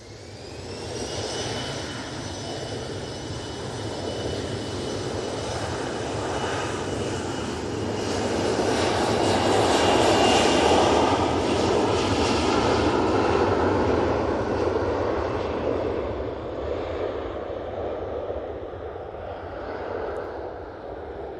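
Airliner engines roar at Manchester Airport, a loud, sustained jet rumble and whine that swells to a peak midway and then slowly fades over about twenty seconds, heard outdoors with no talking.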